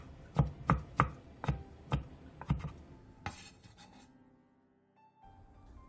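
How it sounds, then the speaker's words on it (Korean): A knife chopping onion, chili peppers and apple on a cutting board, about eight crisp, sharp chops at an uneven pace, followed by a brief scraping sound and then near silence. "양파 반개를 얇게 채 썰고 청양고추 2개와 홍고추 1개도 얇게 쫑쫑 썰어주세요."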